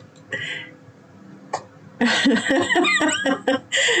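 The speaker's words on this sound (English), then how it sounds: "choked on his tea and started coughing" A man coughs and splutters after choking on tea, in rough, repeated bursts, close by, with throaty hacking and brief quieter gaps in between.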